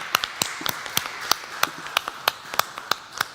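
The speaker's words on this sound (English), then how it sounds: "one more round of applause." A small conference audience claps after a talk at a Bitcoin event in Taipei, sparse individual claps in an uneven rhythm, distinct sharp hits over a quiet room rather than a full ovation.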